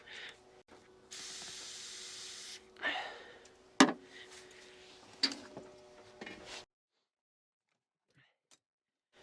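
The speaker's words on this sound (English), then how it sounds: "I can spray ether in there from this side." Several bursts of hissing aerosol ether spray into a Detroit 8V71 diesel engine with stuck injectors, the longest lasting over a second, with knocks and clatter in between, then quiet.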